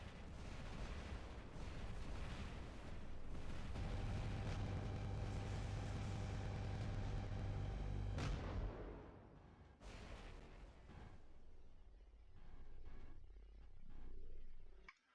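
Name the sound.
trebuchet weapon firing in War Robots video game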